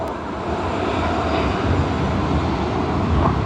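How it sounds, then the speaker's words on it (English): A Cathay Pacific airliner taxis past at Sydney Airport, its jet engines producing a loud, steady broadband roar that stays constant and close throughout. "So you'll get to see more of it as it just taxis past by us."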